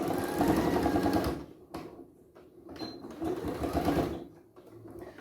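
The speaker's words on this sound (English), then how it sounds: "So just sew along that line." A sewing machine stitches a fabric hand sanitiser pouch, a close, rapid mechanical whirr that runs loud at first, halts briefly, then resumes in a second steady burst before stopping.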